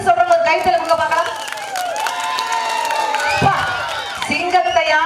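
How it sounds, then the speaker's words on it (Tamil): An audience at a Tamil debate stage event claps and cheers, a dense burst of applause and whoops with a voice carrying over the crowd through most of it. "ஆண்கள் சொன்ன உடனே எப்படி கைத்தட்டல் வருது?"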